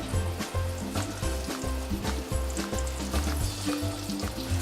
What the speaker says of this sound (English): put a little flour in there, and if it sizzles like that, then you know it's perfect.